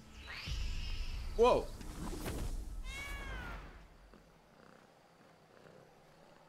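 A cat meows and purrs in the video game Blacktail, heard up close in the foreground between short exclamations from a man, with a higher fox-like call following before the sound fades to quiet ambience.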